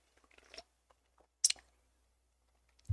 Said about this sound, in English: I try to keep the crunching to a minimum